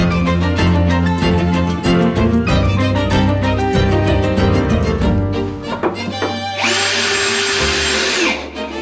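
A power drill drives screws into drywall plasterboard, with repeated close, loud whirring bursts of the motor, then a final sustained high-pitched spin before it stops.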